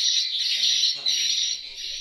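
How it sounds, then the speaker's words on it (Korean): Bird calls played from a loudspeaker in Borneo to draw nesting birds, forming a dense, continuous chorus of shrill chirps and squawks that stays loud and steady throughout, with faint voices underneath. "스피커에서 나오는 새 소리를 듣고 새들이 날아와 이곳에다 둥지를 튼다고 합니다."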